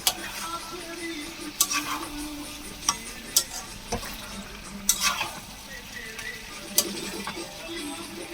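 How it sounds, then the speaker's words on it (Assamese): Oil sizzles steadily while chicken is fried and stirred in a pan, with occasional sharp scrapes and clinks of a utensil against the pot. "যিমানে ভাজি আছোঁ সিমানে তেল ওলাই আছে।"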